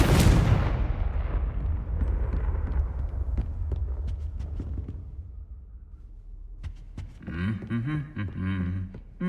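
A Confringo fire spell from the video game Hogwarts Legacy goes off as a sudden booming blast that decays into crackling debris and rumble. Brief tonal game effects and chimes follow near the end.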